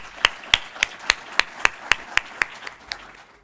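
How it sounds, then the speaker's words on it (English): Audience applause at an industry talks forum, heard as slow, evenly spaced sharp claps, about a dozen in steady rhythm, close and crisp before fading out. "Let's give them a big hand of applause."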